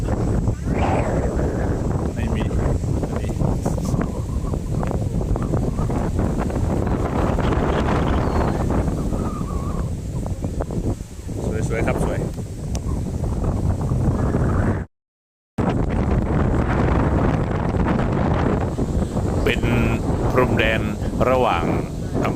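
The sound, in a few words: wind blowing at hilltop viewpoint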